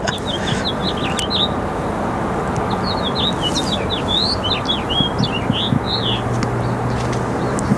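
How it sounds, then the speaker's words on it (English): Small birds chirp in quick bursts of high tweets, close and clear, over a low, steady background rumble at an airport. "Those birds chirping sound like they're over my head"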